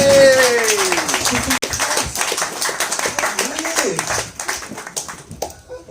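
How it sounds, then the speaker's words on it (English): A live-show audience in Manchester bursts into applause, a dense, steady wash of clapping that fills the whole stretch with a few sharper claps scattered through it, while people talk over it. "Round of applause for Adam."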